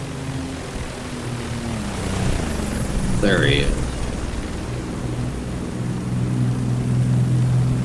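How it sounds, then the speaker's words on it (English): Helicopter flying over the Ukraine front lines: a continuous rotor and engine drone, steady and fairly loud, with someone speaking briefly over it. "Man, I gotta get me a helicopter like that."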